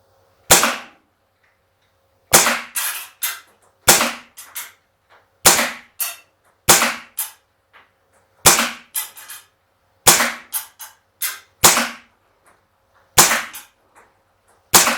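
A KWC Taurus PT 247 G2 blowback airsoft pistol firing 6mm BBs, sharp cracking shots near and loud, in irregular bursts of single and double reports separated by short silences.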